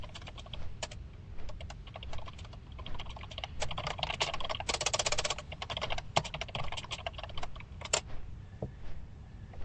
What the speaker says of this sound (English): you can probably hear my keyboard